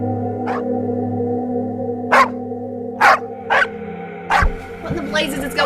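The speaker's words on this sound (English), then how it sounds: "Lucky's dogs began to bark violently as if an intruder was on the property" Several dogs on a rural Kentucky homestead bark violently at night, with five or six sharp, loud barks at uneven intervals over a steady low hum, and a yip or whimper near the end.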